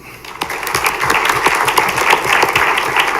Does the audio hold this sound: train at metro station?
no